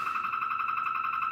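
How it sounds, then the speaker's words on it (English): A car alarm goes off, a steady high electronic tone held without a break, moderately loud and heard alone at some distance. "There's alarms going off"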